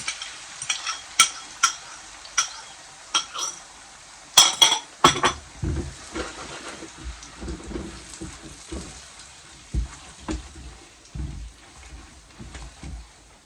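Eggs stirred into already cooked mushrooms in a pan: a spoon scrapes and clinks against the pan in repeated strokes, with brief clattering clusters and a soft sizzle, close by and without talk.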